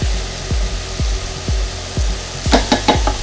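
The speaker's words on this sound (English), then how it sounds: "put a little touch more olive oil into this pan to help this onions to sweat" Chopped onions and a garlic clove sweat in olive oil in a pan, with a soft frying hiss under regular low thuds about twice a second and a few sharper clinks near the end.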